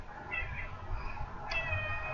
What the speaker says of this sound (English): Yeah, I know. That's my cat.